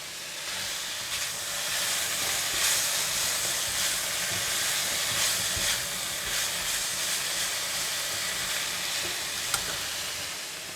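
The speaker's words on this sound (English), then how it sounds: "stir fry the pork belly until all of it has changed the color to slightly white color" Pork belly is stir-fried in a pan with carrot and radish, giving a steady, close sizzling hiss with occasional scraping stir noises and no talking.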